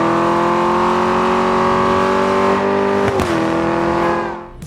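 Car engine in the racing video game Forza Horizon 5, a sustained, steady engine drone holding one pitch with a brief disturbance near the end before fading out, loud and alone.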